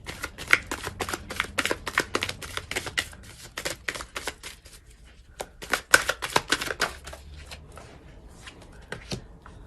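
Tarot cards shuffled and drawn by hand, a close series of crisp riffling and slapping bursts with short pauses between them, heard alone without talk.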